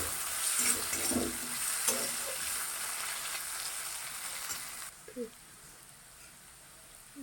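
Potatoes frying in a pan for a spiced vegetable dish with spring onion stalks give a bright, steady sizzle that drops away abruptly partway through, leaving quieter room noise and a few faint clinks.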